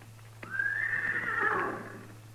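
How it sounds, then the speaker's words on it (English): A horse near a burned wagon in an old Western radio drama gives one loud, long whinny that rises quickly, wavers, and fades over a steady low hum. "That's his horse, too."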